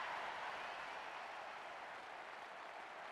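Stadium crowd roar in International Superstar Soccer '98 on Nintendo 64, a steady dense wash of cheering and applause held at an even level throughout, fairly quiet and without any talk.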